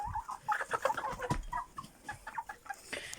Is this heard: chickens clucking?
yes